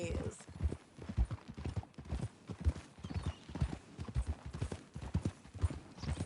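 Horse hooves clip-clop at a steady walking rhythm in Red Dead Redemption 2, moderately close, while characters talk over the footfalls.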